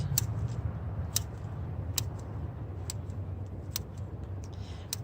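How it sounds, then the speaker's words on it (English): A steady low rumble of road traffic passes outside a garden, continuous and moderately distant, overlaid by sharp clicking ticks at irregular intervals from close-up trimming work. "A lot of traffic today."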